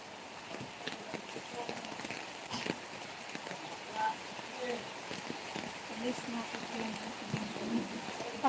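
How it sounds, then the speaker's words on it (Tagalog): Rain falls steadily outdoors as a constant wash of patter with scattered louder drops, continuing beneath occasional voices. "Medyo naabutan tayo ng ulan."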